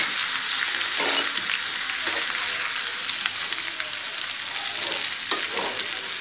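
Potatoes frying in a pan with salt, turmeric, chili and onion, a steady loud sizzle with brief stirring scrapes and no talking.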